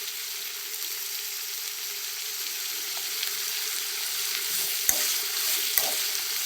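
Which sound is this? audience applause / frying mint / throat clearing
frying mint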